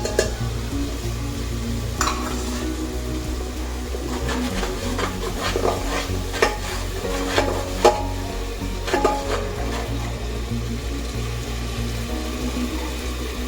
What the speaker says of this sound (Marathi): हे बघा आपला कांदा ब्राऊन कलरचा झालेला आहे, त्यामध्ये लगेच टोमॅटोची प्युरी टाकून द्यायची